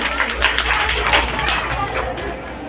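A crowd at an Independence Day drama program claps for the actor playing a netaji. Steady, close applause runs throughout, mixed with crowd chatter.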